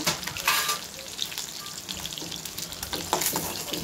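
Mourala fish koftas frying in oil, a busy crackling sizzle with stirring and scraping bursts throughout, close and fairly loud, no talk.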